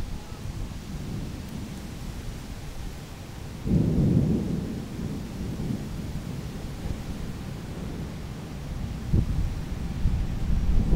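Low thunder rumbles through a steady wash of rain in an outdoor storm under a low, strangely colored sky, with one heavier roll partway through and light wind buffeting the microphone.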